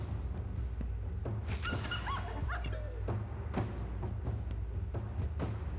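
Dogs in the Wartales video game bark and yelp in short bursts over a constant low rumble, mixed with thuds and combat noises.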